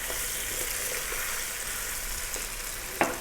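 Garlic and ginger paste fries in a pan with a steady, even sizzle and a few soft stirring scrapes, ending in one sharp clatter near the end, with no voices.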